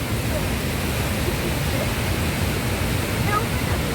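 A waterfall on the Rio das Antas roars as a steady, broad rush of falling water, continuous and close with no break.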